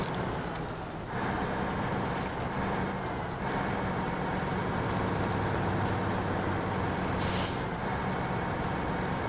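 A Freightliner 114SD truck engine runs continuously with a loud, dense rumble, broken by a few short air hiss bursts.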